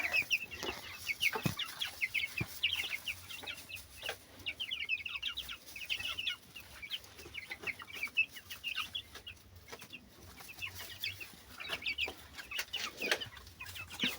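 A backyard flock of chickens with young cockerels clucks and peeps in soft, busy overlapping calls, fairly close and continuous, with no voices.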